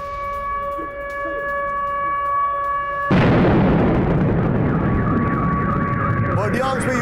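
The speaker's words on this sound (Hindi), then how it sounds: "बर्डियांस्क के रूसी सैन्य ठिकाने पर धमाके" Explosions hit a Russian military base in Berdiansk. A steady siren-like tone gives way to a loud, broadband rumble that continues as a dense, roaring wash, with faint tones and crackles near the end.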